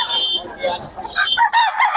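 A rooster crows loudly and close among chickens for sale at a busy poultry market, its call overlapping with clucking fowl and a bit of background chatter.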